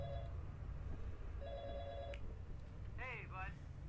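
Telephone ringing in Five Nights at Treasure Island Remastered 2.0, two short electronic rings over a low droning hum, with a voice briefly sounding toward the end.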